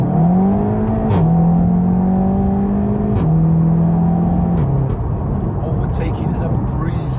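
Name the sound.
Seat Leon Cupra 300 engine revving while overtaking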